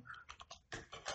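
Bursts of typing on a computer keyboard, a quick run of close key taps, a short pause, then a second louder flurry of keystrokes, with no talking.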